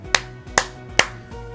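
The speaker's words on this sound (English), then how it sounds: "Three claps for you" Three sharp hand claps ring out, evenly spaced about half a second apart and close by, over a faint low background tone during a Pokemon Unite match.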